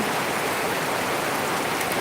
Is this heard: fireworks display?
no